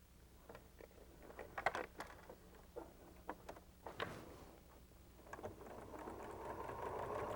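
A sewing machine stitches quilt pieces in quiet short bursts of needle clatter, with brief pauses and light handling noises between runs.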